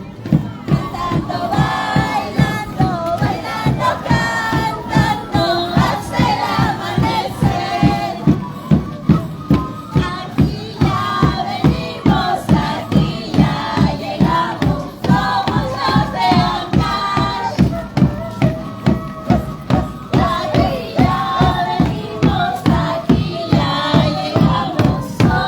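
Carnival troupe chanting rhythmically in unison at the Andahuaylas carnival, a large crowd of voices over steady pulsing beats that continue without a break, loud and close.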